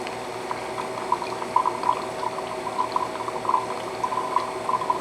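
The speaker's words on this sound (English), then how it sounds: "First thing I'm going to do is drain off the excess water" Excess water drains off rehydrated freeze-dried mozzarella cheese with a continuous gurgling, bubbling trickle, close and steady throughout, with no speech.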